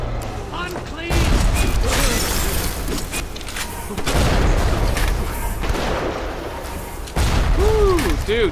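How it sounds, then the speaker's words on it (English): Rocket turret in BioShock firing repeatedly in bursts, loud booming blasts in a few waves with crackling debris, amid game effects while someone talks over it. "Dude, rocket turret."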